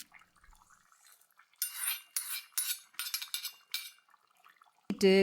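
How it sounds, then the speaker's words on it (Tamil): Green chilli tempering being added to a tomato fish curry with pureed tomatoes and coconut, heard as several short bursts of metal spoon scraping and clinking against a pan, with a louder clatter at the end. "இப்போது இந்த தாளிப்பை நம்ம குழம்புல சேர்த்திடலாம்."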